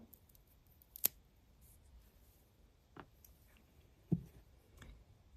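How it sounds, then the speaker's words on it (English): Scissors snip carefully at a daffodil flower's ovary, giving a few sharp, isolated close cuts spaced a second or two apart in a quiet room. "we're going to very carefully snip a section of the ovary away"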